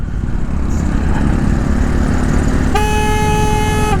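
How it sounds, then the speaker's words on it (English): A Denali Sound Bomb Mini horn fitted to a Honda Africa Twin motorcycle gives a loud, steady honk that cuts in near the end, over heavy wind and road roar. "the horn is changed. That's a Denali Sound Bomb Mini."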